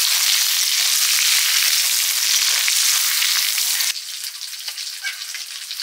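Beef fat fries in a pan with a dense, close, crackling sizzle that drops suddenly to a quieter, sparser spatter after a few seconds.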